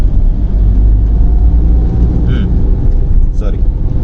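A car engine in first gear while driving makes a loud, steady low rumble and drone close by, and a voice briefly speaks over it.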